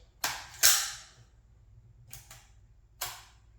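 A Colt M16A1 rifle's fire selector and action being worked by hand: a few sharp metallic clicks and snaps spaced irregularly, close and alone in a quiet room.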